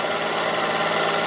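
Wilesco D455 model steam engine running on compressed air and driving a small 12 volt dynamo, giving a close, loud, steady mechanical whir with a fast even chuffing rhythm and no talk.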